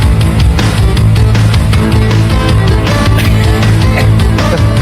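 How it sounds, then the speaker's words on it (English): Opening theme music from the film Samurai Cop, a cheap, thin synthesizer tune reminiscent of an old Atari game, playing loud and continuous with a busy rhythm and no voices. "this music, it sounds like a really bad Atari game."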